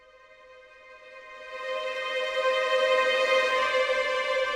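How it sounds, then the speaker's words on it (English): A software string section plays a tremolo: rapidly bowed sustained notes start quiet and swell to a fuller, louder shimmer that then holds steady. "this is the tremolo, which is one of my favourite articulations in the string section"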